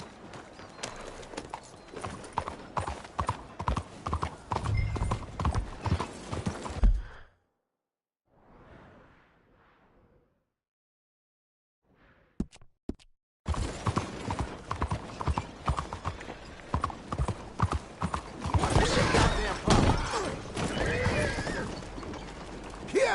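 Steady clip-clop of a galloping horse in the Red Dead Redemption 2 game, rhythmic hoofbeats with a rider's voice, broken by a quiet gap before the hooves pick up again and continue hard to the end.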